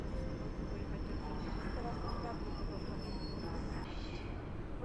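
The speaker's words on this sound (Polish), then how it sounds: "Rusza piętrus." A double-decker passenger train pulls away from Warszawa Zachodnia station in Warsaw, a steady broad rumble with a faint high whine running under it, loud and continuous throughout.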